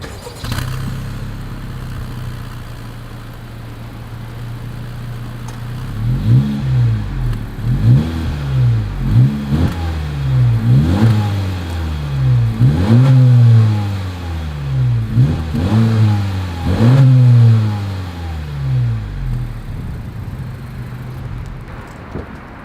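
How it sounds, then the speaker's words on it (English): A 2021 Honda Civic hatchback exhaust idles low, then revs repeatedly in a series of sharp rising bursts before settling back to a rumbling idle. "As always, here is that exhaust clip."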